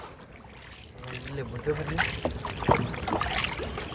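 A boat moving through floodwater in a rural area, with a soft continuous water wash and creaks under people talking nearby.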